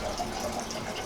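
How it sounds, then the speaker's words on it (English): Water pours from a water heater drain valve into a bucket in a steady, moderately quiet gush and splash that runs without a break. "then open the valve back up and it's pouring into this bucket."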